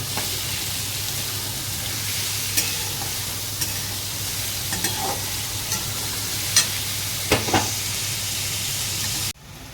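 Onion frying in a pan for Malvani-style dry chicken, a continuous close sizzle with periodic scraping stirs and spatula taps, ending abruptly.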